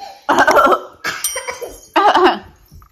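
A young child coughs in three short bursts, each a quick harsh hack with brief gaps between them, close to the microphone in a quiet room.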